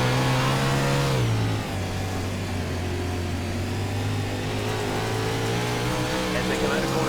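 Sprint cars race in iRacing at Weedsport in a World of Outlaws series, a steady droning engine roar with pitch shifts as they come off a corner, continuous and loud, while a commentator talks over the racing.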